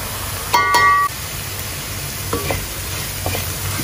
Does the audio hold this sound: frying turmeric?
yes